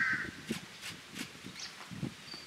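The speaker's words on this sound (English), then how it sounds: "There's more birds coming in." Crows caw repeatedly at a moderate distance, with several harsh calls spaced across the clip over a quiet background.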